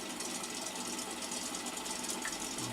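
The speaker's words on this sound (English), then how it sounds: "Engine's running." Simulated Spitfire Mk IX piston engine running in the DCS flight simulator, a steady rapid mechanical chatter, fairly faint and even throughout with no voices.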